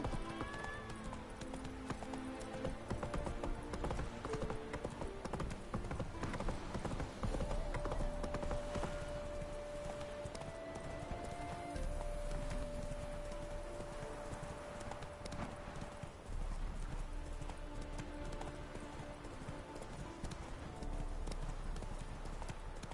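Roach the horse trots through the game world in The Witcher 3, hooves clip-clopping in a steady rhythm under game music, with an occasional snort and faint talk.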